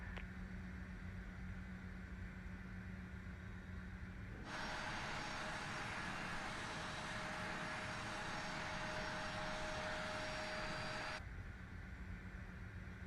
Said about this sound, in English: And we've got good engine starts.